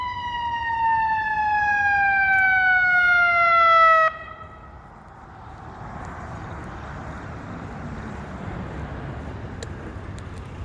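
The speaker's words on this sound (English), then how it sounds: "The ambulance is going by." An ambulance siren wails loudly with a steadily falling pitch as it passes close by, then cuts off abruptly, leaving low traffic rumble behind.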